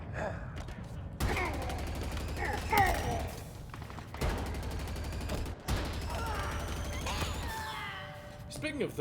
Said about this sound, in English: It almost feels wrong for the plasma rifle to be this good.